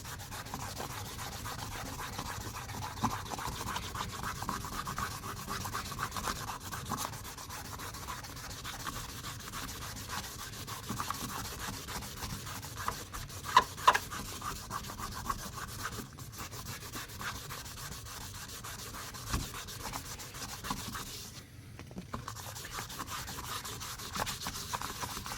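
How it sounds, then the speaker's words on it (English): Wet sanding a plastic headlight with 1500 grit sandpaper makes a steady, soft, close scrubbing rub that continues without a break. "Remember to keep rinsing your sandpaper and the piece you're sanding to get rid of all that bad plastic"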